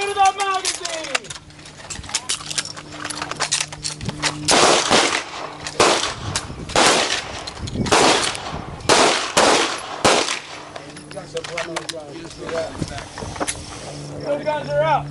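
Handgun shots fired during a one-handed practical shooting drill on an outdoor range, a series of loud sharp reports in uneven bursts, with an instructor shouting commands between them.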